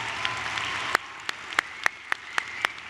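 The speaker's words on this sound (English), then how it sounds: "Let's have one large round of applause for our valedictorians." A high school graduation audience claps in a short burst of applause, a steady wash of clapping punctuated by several sharper individual claps near the microphone.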